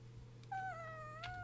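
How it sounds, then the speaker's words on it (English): A pet cat gives a single faint, rising and falling meow, short and close, over a low background hum. "I've got a cat. Cat. Kitty."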